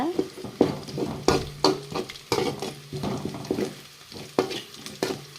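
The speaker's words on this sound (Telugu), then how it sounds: "కొంచెం ఆనియన్స్ బాగా వేగాలి" Onions frying in a pan with spices, sizzling steadily while a spoon stirs and scrapes in repeated strokes, close and clear with no talking.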